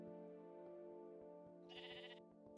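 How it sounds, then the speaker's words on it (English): Sheep bleating in the Minecraft video game, a short synthesized bleat rising over a steady layer of background game music, fairly clear but not loud. "Yes, I hear you, sheep."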